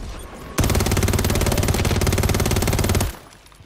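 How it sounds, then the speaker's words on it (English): Rapid automatic gunfire in the Warzone battle royale shooter, a loud sustained burst of evenly spaced shots lasting about two and a half seconds over low background game noise. "They're shooting."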